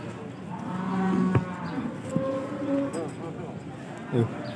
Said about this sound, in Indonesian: Sapi-sapi buruan Pak Pen.